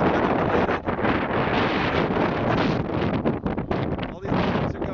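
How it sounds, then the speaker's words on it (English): Strong wind from Hurricane Sandy in Norwalk roars steadily across the microphone, loud and close, with gusty surges and brief dips throughout. "It's very freaking windy."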